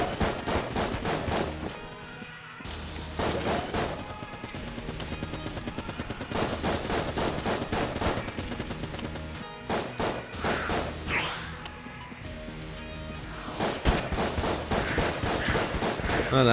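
The Gatling Gull boss in the video game Enter the Gungeon lets loose with machine-gun fire and rockets: relentless rapid bursts of shots and heavy thumping blasts that keep coming at full loudness, briefly easing only once or twice.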